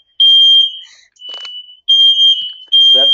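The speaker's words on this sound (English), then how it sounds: "excuse me here, I got a fire alarm" A fire alarm goes off indoors, sounding loud shrill electronic beeps in an uneven pattern of long and short bursts with brief gaps.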